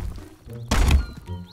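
A dull, heavy thunk from a kick pushing up a rock in the VR game Rumble, a single short impact standing out amid quiet background noise.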